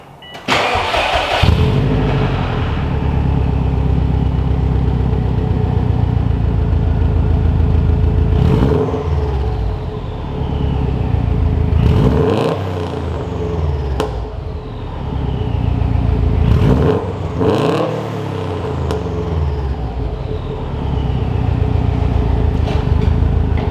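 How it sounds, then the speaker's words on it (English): Subaru WRX fitted with an HKS Hi Power exhaust fires up loudly, then idles with a raspy burble broken by several sharp throttle blips that rise and fall, close and without talk. "All right, here goes the first cold start."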